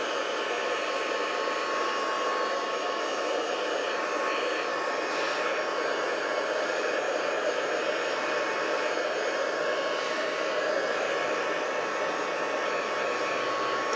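A heat tool on its lowest first setting blows a steady, even airy roar while drying a watercolor card, constant and close throughout with no other sounds.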